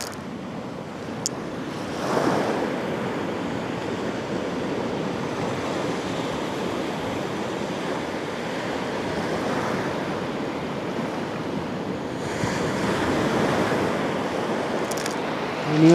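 Sea waves rolling ashore at sunset on the Cyprus coast, a continuous wash of surf with steady wind rush across the microphone, swelling slightly in a few places.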